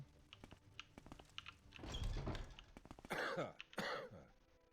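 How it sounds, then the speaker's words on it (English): A couple of raspy coughs and throat-clearing bursts from a video game character, amid scattered clicking and tapping, fairly faint overall. "Coughing right in my face"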